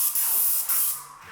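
Paint spray gun hissing steadily while coating a garage, a loud close broadband spray in two long bursts with a short break, fading near the end.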